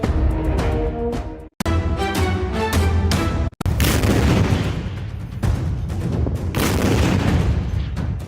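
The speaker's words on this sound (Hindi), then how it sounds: "ये तस्वीर खार्किव से सटे डरगाची शहर की है, जहां रूस ने भीषण बमबारी कर तबाही मचा दी।" Heavy Russian bombardment near Dergachi by Kharkiv brings loud, rolling booms and dense crackling blasts, with brief cut-offs between bursts.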